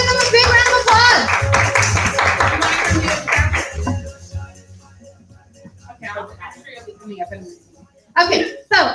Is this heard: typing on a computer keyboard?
no